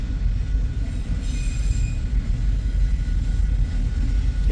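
Eastbound loaded autorack freight train passing, coming off the Transcon onto the Blair Fremont subdivision, a loud continuous low rumble of rolling cars with faint high wheel squeal, close and steady throughout.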